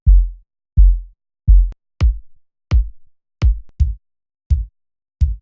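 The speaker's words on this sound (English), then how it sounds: "Add some kicks." Electronic kick drums thump alone in a steady pattern, about ten punchy low hits with quick decays, several carrying a sharp click on the attack.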